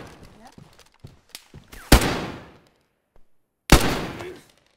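Gunfire in the video game DayZ: a scatter of small cracks followed by two loud, close shots, each ringing off into a decaying tail, with players talking between them.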